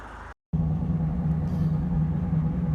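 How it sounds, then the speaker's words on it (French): A 1990s Volkswagen Golf MK2 with a worn wheel bearing drones steadily while driving, a constant low rumbling hum from inside the cabin after a brief silent break. "J'ai un bruit de roulement de malade mental là."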